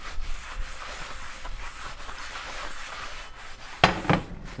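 A Crisbee seasoning stick is rubbed onto a cast iron pan, giving soft, steady scraping strokes with a few sharper, louder rubs near the end.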